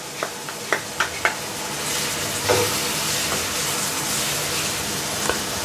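Tomatoes, onions and chopped garlic frying in a pan, opening with several sharp spoon taps and clinks, then a steady loud sizzle with stirring scrapes close by.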